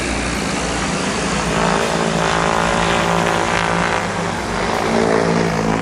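Rotors of an XAG V40 agricultural spraying drone whir with a loud, steady, close drone that holds unbroken throughout, with no talk.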